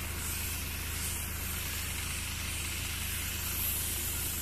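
Water sprays onto fruit plants during pesticide-residue washing before harvest, a steady, dense hiss that holds close and constant throughout.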